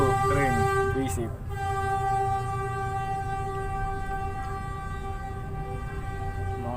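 A train sounds its horn in a steady, sustained tone over rumbling rail noise, heard within a game setting alongside a voice.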